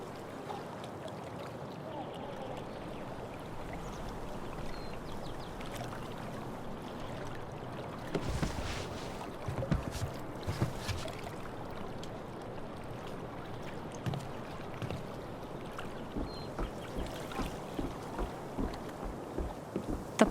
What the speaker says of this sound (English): If not for the paddling, kayaking would be super relaxing.